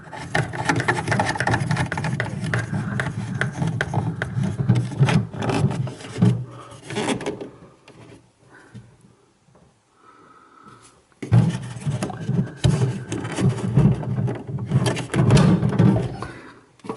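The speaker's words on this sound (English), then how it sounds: "So now you just unscrew the bulb, put your new one back in." A light bulb being unscrewed inside a fridge freezer gives a steady close scraping and rubbing, pausing for a few seconds of near quiet before the gritty twisting resumes.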